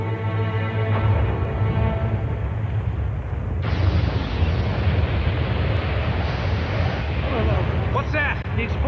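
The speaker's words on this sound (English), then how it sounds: "The explosion's starting." A loud, sustained explosion rumble, deep and roaring, swelling into a brighter burst of noise midway and continuing to roar.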